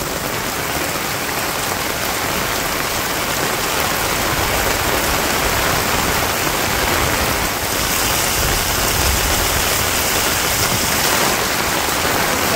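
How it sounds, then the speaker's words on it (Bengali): Heavy monsoon rain pours steadily on a Bangladeshi village, a dense unbroken hiss of drops drumming on surfaces that stays loud and even throughout, with no voices. "বৃষ্টিটা দেখেন, বৃষ্টি উপভোগ করেন"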